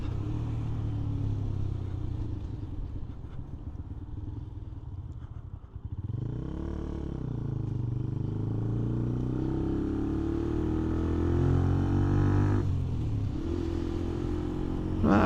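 A Benelli TNT 125 motorcycle being ridden: a steady, close engine drone with wind rumble, rising and falling slightly as the revs change, and no talk.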